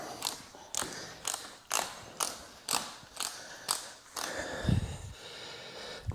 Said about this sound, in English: Grab a torque wrench,